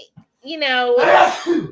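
A single sneeze, close and fairly loud, with a sharp breathy burst after a brief voiced intake, occurring in an indoor setting during casual chat about airfryer sausage taquitos.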